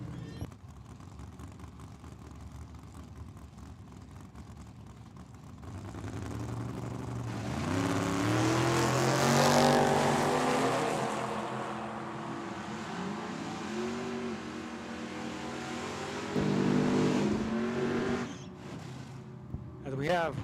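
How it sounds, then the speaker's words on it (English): Chevelle and Camaro drag racing side by side at Tucson Dragway: loud engines rev and accelerate, rising and falling over about fifteen seconds, with an announcer talking over the roar. "We got a good-looking Camaro here on the left-hand side."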